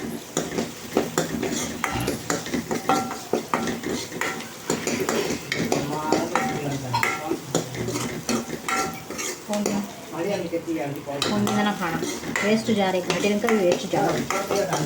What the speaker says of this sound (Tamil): இப்போ வெங்காயம் நல்லா பொன்னிறம் ஆகிற வரைக்கும் நல்லா வதக்கிக்கலாம்